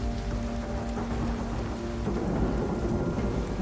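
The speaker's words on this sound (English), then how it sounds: "Torrential rain fell like solid walls of water." Thunderstorm with torrential rain, a dense, steady roar of heavy downpour with low rolling thunder rumbling beneath, loud and continuous, with no voices.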